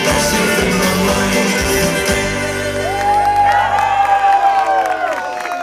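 A live audience at a folk song-and-dance performance in Olzai, Sardinia, claps and cheers loudly and steadily after a song, with shouts and whoops mixed in and music still ringing underneath.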